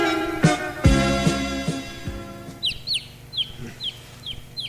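Chicken clucking in quick, repeated bursts close by, with a few sharper squawks and thuds at first, then lighter scattered clucks.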